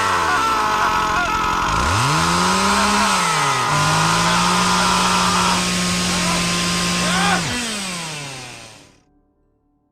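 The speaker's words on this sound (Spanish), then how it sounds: "Era el robot activando sus sierras especiales para quitarme el cerebro." Special saws on a robot whir up as a horror sound effect, a loud, harsh motor drone that rises and shifts pitch, holds steady, then winds down and cuts to silence.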